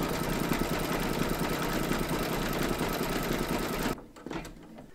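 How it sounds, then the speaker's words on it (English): An embroidery machine stitches a quilting round in cream thread on an in-the-hoop crazy patch quilt block, running in a loud, steady, rapid mechanical hum that stops abruptly near the end, leaving a few faint clicks. "Load your thread colour for the quilting over area two into your machine and then stitch round number six"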